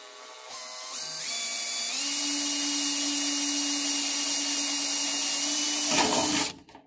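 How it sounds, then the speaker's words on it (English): A power drill bores holes through the face of a rain gutter, one continuous high whine that spins up, holds steady for several seconds, then cuts off, close and alone. "we'll proceed on the way down the entire length of the gutter, drilling these holes"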